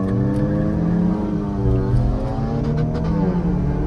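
A Kia Seltos or Honda City accelerates hard in a drag race, a loud continuous engine roar with rising pitch heard from inside the car.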